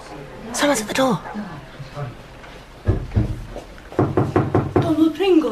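Knocking on a door in a wartime radio drama: a few sharp raps sound around the three-second mark, close and clear, framed by actors' voices speaking before and after.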